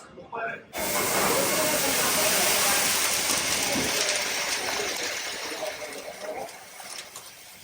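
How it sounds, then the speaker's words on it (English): An idli steamer machine in a South Indian breakfast kitchen in Udupi, loaded with idli batter, lets out a loud, steady hiss of escaping steam that starts abruptly after a brief pause, continues without a break and slowly eases off. "अच्छा, तो इसके अंदर इडली का बैटर डालने के बाद ये ऐसे स्टीम होके निकलता है"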